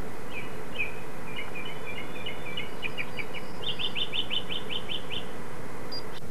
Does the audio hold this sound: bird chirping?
yes